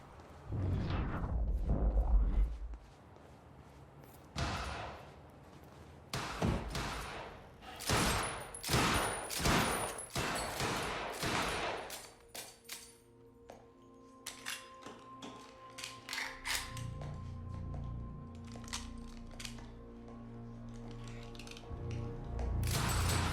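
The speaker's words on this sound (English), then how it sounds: "I gotta check out that gunfire before I go anywhere else." Gunfire in the video game Quantum Break, heard as a run of sharp, loud shots in the first half, trailing off into quieter taps and mechanical clatter with a low rumbling hum underneath.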